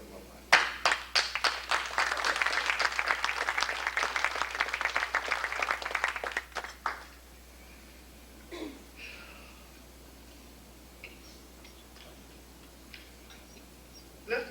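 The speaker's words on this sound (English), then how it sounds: "I would like to just clap for the alumni." An audience at a university ceremony honoring a professor for 40 years of teaching claps for alumni, a dense burst of applause lasting about seven seconds before it cuts off, leaving a quiet room with faint scattered sounds.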